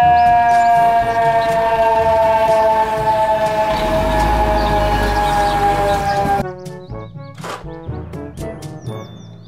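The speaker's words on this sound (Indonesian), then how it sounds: "Mobil truk pemadam kebakaran." A loud, sustained wailing fire truck siren holds steady for several seconds, then cuts off, leaving softer chirping tones.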